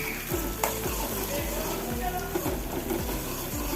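Chopped green chillies and curry leaves frying in hot oil for a wild lemon pickle, a dense continuous sizzle with crackling pops and faint stirring, close and steady throughout.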